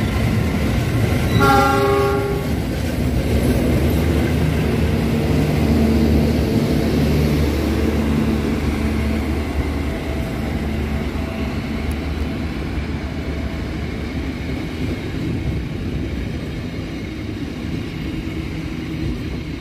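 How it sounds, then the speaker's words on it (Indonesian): Local Cikuray passenger train departing Cibatu station, a loud horn blast near the start followed by steady low rumble of the train rolling past, no talk. "Kereta api Cikuray sudah diberangkatkan dari stasiun Cibatu."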